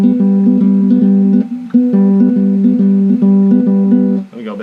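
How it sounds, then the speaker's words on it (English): Guitar finger-picking pattern for a song, played with a pen: steady rhythmic plucked notes with a low repeating bass note and higher picked tones, close and clear, no voice. "the little finger picking pattern is going to sound like this"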